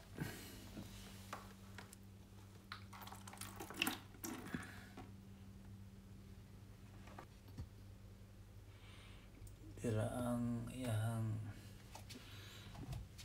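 Aquarium water drawn out through an improvised bottle siphon gurgles and splashes into a bucket, a brief louder burst of flowing water near the end after quiet handling noises and background hum.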